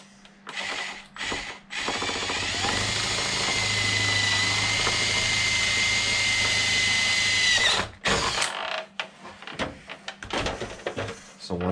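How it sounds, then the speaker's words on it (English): A power drill bores through an RC car windshield for an Arrma Mojave 8S, a loud sustained whine lasting several seconds, framed by shorter bursts and scraping handling noises, with a voice talking. "so that I'm drilling this in the right spot"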